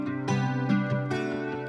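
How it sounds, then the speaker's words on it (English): Acoustic guitar loop from a hip-hop beat, pretty and melodic with plucked strummed chords recurring in a steady rhythm, close and clear with no voices. "it started with this guitar loop"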